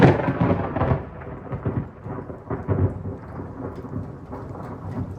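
Severe thunderstorm on the outer bands, with 60 mph wind gusts and a massive close cloud-to-ground lightning strike: loud, deep rolling thunder rumbles continuously over steady heavy rain, with several swelling peaks across the stretch.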